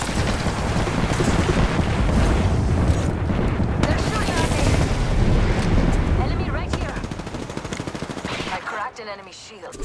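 Enemies shoot during a video game firefight: dense, loud volleys of rapid gunfire and booming impacts go on almost continuously. A voice talks under the shooting before it thins out near the end.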